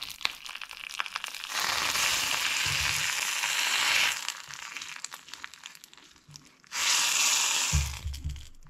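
Lentils tipped into hot tempering oil, bursting into a loud hissing sizzle that dies back, then flares up again sharply near the end, with crinkly crackling between.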